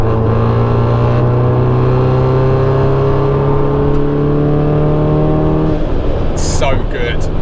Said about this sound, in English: I felt literally the seat vibrate from the pop of the exhaust